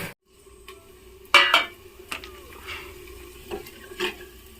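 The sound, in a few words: stirring besan and buttermilk kadhi mixture in a pot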